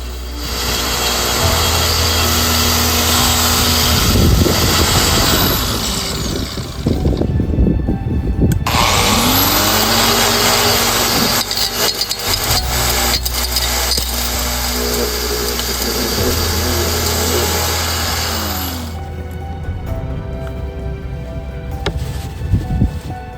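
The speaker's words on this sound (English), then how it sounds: "I go ahead and I grind up the rest of the ore sample" A gold ore sample, MBM ore, being ground into a fine powder in a machine that gives a loud, steady whirring grind with a low mechanical drone, cutting briefly around the middle before resuming.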